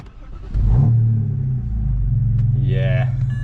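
A naturally aspirated car engine with headers, intake manifold and tune rumbles loudly as it revs up, then holds a deep steady idle while people talk nearby.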